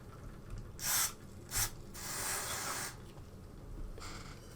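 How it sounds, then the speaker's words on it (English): Contact cleaner sprayed onto laptop switches in three short hissing bursts, the first two brief and sharp and the third a longer steady spray, close and fairly loud against a quiet background. "I'll just get a bit of contact cleaner on these switches, because I intend to use these"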